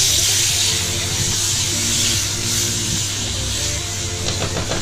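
King prawns sizzling in a hot pan while being stirred, a steady loud frying hiss that runs continuously throughout, with a low cooktop hum underneath and occasional soft scraping near the end.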